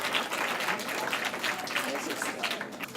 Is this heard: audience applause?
yes